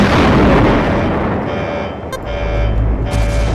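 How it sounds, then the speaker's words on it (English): A generator room exploding in a horror attraction video game, a loud sustained roaring blast with rumbling low end that swells again near the end, with alarm-like tones underneath. "Generator exploding in 6, 5, 4"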